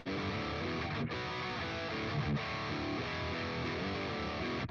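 Recorded rock guitar run through Helix amp-simulation software plays a dense, distorted, sustained tone, with chords changing every second or so and no talk over it.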